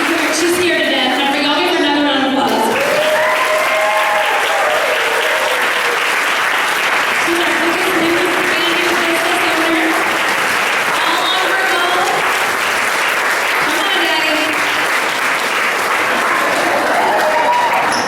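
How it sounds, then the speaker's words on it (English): A crowd at a business leadership academy meeting applauds a new business partner with steady, loud clapping throughout, while people talk and cheer over it. "Y'all give her another round of applause"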